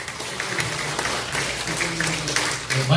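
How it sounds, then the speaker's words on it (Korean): An audience at a book launch celebration concert gives a warm round of applause to welcome a saxophone performer onto the stage, many hands clapping steadily at moderate loudness, with faint background murmur. "여러분의 큰 박수로 초청 무대를 모시겠습니다."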